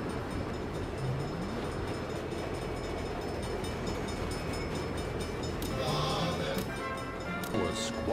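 A train rumbles past in the Saints Row video game, a steady loud low roar filling the whole stretch, with brief tonal squeals and a horn-like blare near the end.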